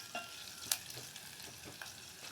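Onions frying in oil in a pot, a soft steady sizzle with a few light stirring scrapes and clinks, close and fairly quiet, with no talking.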